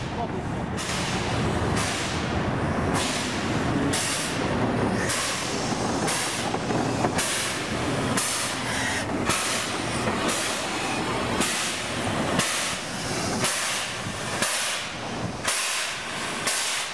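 A 1900 Hungarian series 1A express steam locomotive, a museum engine from Budapest, pulls a train out of the station, giving steady rhythmic chuffing bursts of steam and hiss, loud and close, with faint talk underneath.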